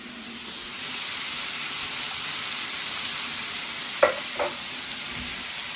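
A chilli mixture in a frying pan sizzles with a steady hiss while being stirred, a couple of brief scraping knocks of the utensil breaking through near the end, no voices.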